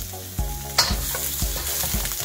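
Beef sticks fry in olive oil in a pot for a Filipino beef soup, a steady sizzle broken by several sharp clinks and scrapes of a utensil stirring, close and with no voices.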